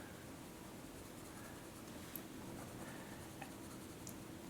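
Pencil shading on paper in a drawing class, a soft continuous scratchy rasp of graphite laid down in columns with steady pressure, faint and close with a couple of light taps, no talking.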